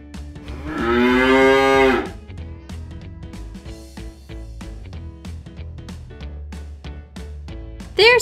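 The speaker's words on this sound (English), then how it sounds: "There's the cow." A loud, drawn-out cow moo sounds near the start, followed by a steady run of softer rhythmic clicks and thumps, with a brief louder burst at the very end and no talk.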